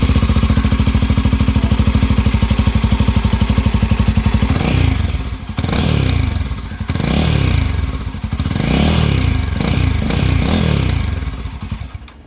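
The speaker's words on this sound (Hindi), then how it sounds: "आवाज सुनो आप बाइक की कैसी आ रही है भाई" A Royal Enfield Himalayan 450 with a decat free-flow exhaust, loud and close, idling with a rapid thumping beat, then revving repeatedly in rising and falling bursts.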